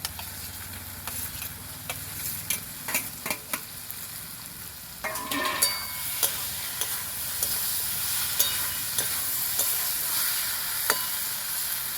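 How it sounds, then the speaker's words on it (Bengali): Fried potatoes tumble into a pan of oil-glossed spiced masala for a Bengali soybean and potato curry, then sizzle steadily while a spoon scrapes and clatters in repeated strokes, close and fairly loud. "এখন আমি দিয়ে দেবো ভেজে রাখা আলু"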